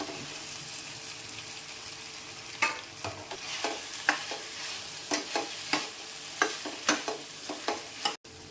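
Curry leaves fried in hot oil for a traditional Telugu taro root curry give a steady crackling sizzle, with a run of sharp spatters and pops toward the end and no voice.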